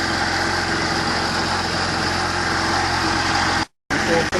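An engine idling steadily with a constant low rumble and hum, cutting out abruptly near the end as it is switched off, followed by a brief restart of noise.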